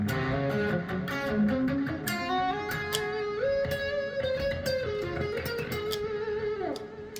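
Heavily processed electric guitar through a Boss ME-80 multi-effects pedal plays a sustained melodic solo line with thick layered effects, steady and loud throughout with no talking.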